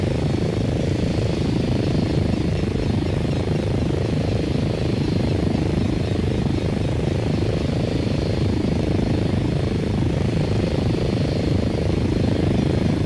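A video-game helicopter flies on autopilot, its rotor and engine giving off a continuous, steady low drone that holds at an even loudness with no breaks.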